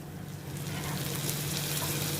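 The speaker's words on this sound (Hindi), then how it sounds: "इसमें मैं अभी ये चॉप्ड टोमेटो डालती हूँ।" Chopped tomatoes sizzle in hot oil with Kashmiri red chili powder and spices for a lauki kofta curry. A dense, steady hiss swells slightly louder after the first moment, close and continuous, with no voices.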